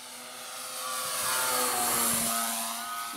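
An Extreme Flight 52in Slick 580 RC aerobatic plane flies a knife-edge circle across a field, its electric motor and propeller whining steadily, swelling slightly louder mid-pass and easing off, with no talk.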